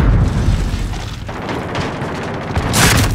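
A rocket launcher blast in Call of Duty Modern Warfare multiplayer, a loud booming explosion rumbling through the whole moment with a sharp bright burst near the end, set amid chaotic gunfire-heavy combat noise.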